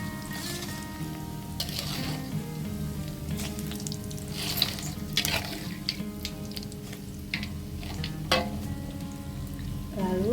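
Steady crackling sizzle of potato and carrot risoles frying in hot oil, with small pops throughout, close and moderately loud.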